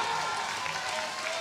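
Audience applause at the Sweden's Strongest Man 2017 strongman competition, a steady dense wash of clapping from a crowd filling the whole short stretch with no pauses.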